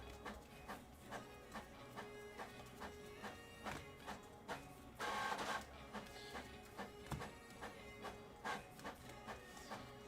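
Printer running steadily in the background of a room, giving off a regular mechanical beat of clicks and whirring passes, moderately quiet and continuous without talk.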